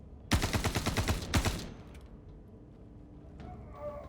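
Star Citizen ship breaking apart in the game, a rapid burst of sharp crackling impacts lasting about a second, then a faint lingering rumble.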